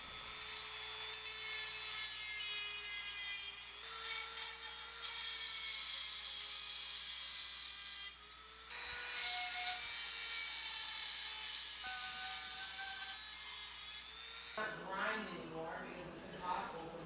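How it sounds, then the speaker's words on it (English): A Dremel rotary tool whines at high pitch while cutting slots in spring steel feeler gauge stock for tattoo coil machine parts, running in several bursts up close, then stopping near the end as other handling sounds follow. "I could take a Dremel tool and cut out the slots."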